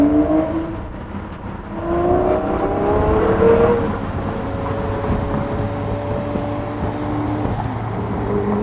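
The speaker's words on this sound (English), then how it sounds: "Upshift, downshift, upshift, downshift. Would never get tired of the sound." A Lamborghini Murcielago LP640 engine revs up and down as gears shift, pitch climbing and dropping, heard loud and close with no talking.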